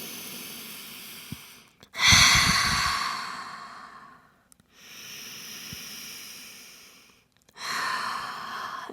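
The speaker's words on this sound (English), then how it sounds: "taking a breath here" Slow, deep breathing during a Pilates child's pose: a long airy inhale, then a sighing exhale and another breath, close to the mic with quiet pauses between.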